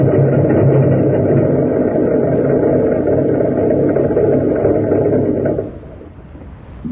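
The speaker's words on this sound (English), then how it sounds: "That's a new airplane motor, idling on the test block." A new airplane motor idles on a test block, a loud, steady droning roar that holds evenly for several seconds before dropping away to a quieter rumble near the end.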